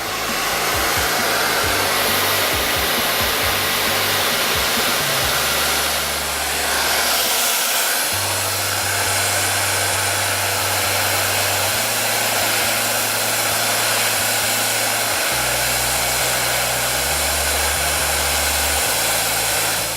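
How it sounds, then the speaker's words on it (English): A hair dryer blows loudly and close while drying short curly hair with a round brush, its hum shifting in pitch as the speed or angle changes, running continuously throughout. "you move the blow dryer down along with the brush"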